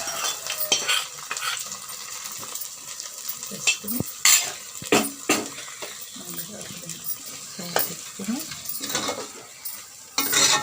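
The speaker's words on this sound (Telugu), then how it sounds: "ఇప్పుడు ఇందులో ఫ్రై చేసుకున్న కొబ్బరి ముక్కలు జీడిపప్పు కిస్మిస్లు వేసుకోవాలి" Fried coconut pieces, cashews and raisins stirred into sweet pongal in a pot, with scraping and clinking of a spoon against metal over a soft sizzle, uneven strokes close up.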